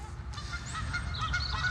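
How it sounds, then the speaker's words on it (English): Geese honking at a carp fishing lake, several harsh overlapping calls at moderate distance over low background rumble. "A couple of geese there, so got to be careful of them."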